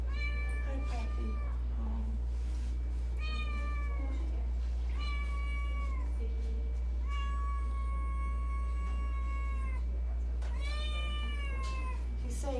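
A cat meows repeatedly in a drawn-out, plaintive series of calls, close and fairly loud over a steady low hum, with a person speaking softly between the meows.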